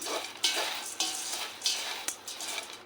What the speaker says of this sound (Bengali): একটু মিক্স করলাম। মিক্স করার পর তারপরে মুড়িটা ঢেলে দিলাম।